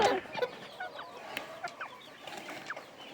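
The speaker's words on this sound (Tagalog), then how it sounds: "May bantam pala ako dito na nagitlog." A bantam chicken clucks after laying eggs, giving a series of short, irregular clucks and squawks up close, with faint background chirps and no talking.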